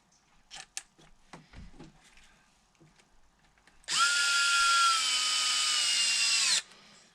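Power drill or driver whining steadily for about three seconds as two long screws are driven into a Traxxas Rustler 4x4 bumper, loud and close, after a few scattered handling clicks.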